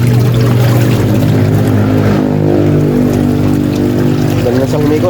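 A washing machine spins loudly and steadily after its noisy gearbox was repaired. A continuous motor drone and water churning run throughout, with a voice speaking faintly underneath.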